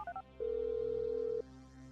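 An in-game phone in GTA 5 on PC sounds a short burst of electronic beeps, then one sustained steady tone about a second long, heard up close over a quiet game background.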